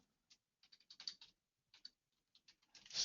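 Computer keyboard typing Java code in Eclipse, heard as quiet bursts of clicky keystrokes in irregular clusters with short pauses between words, close and alone.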